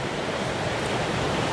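A river runs at the Treja waterfalls near Monte Gelato, a steady, dense rushing roar of water with no pauses, close and constant throughout.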